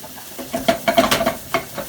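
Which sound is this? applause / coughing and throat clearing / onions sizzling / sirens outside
onions sizzling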